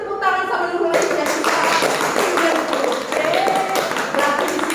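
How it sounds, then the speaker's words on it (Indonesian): Students in a classroom clapping for a classmate, a burst of brisk hand claps with voices talking and cheering over them, fairly close and lively. "Kasih dulu tepuk tangan sama Nurul Aisyah."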